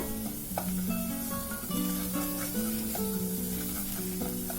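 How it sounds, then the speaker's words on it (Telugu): Chickpea spinach curry ingredients frying in a pan, a continuous close sizzle with light stirring, while a melodic musical tone runs over it. "2 minutes ఫ్రై చేసుకున్నాము."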